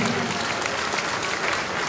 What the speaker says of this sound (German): Nochmal Applaus für beide Trainer für ein Top-Spiel hier in der Arena Schmerin.